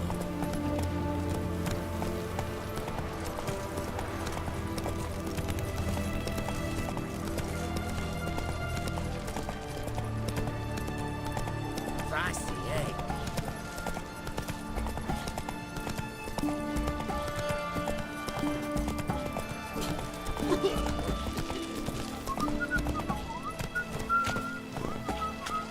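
Horse hooves clip-clop at a steady galloping rhythm in The Witcher 3, with an occasional whinny, set over continuous game music and ambient sound throughout.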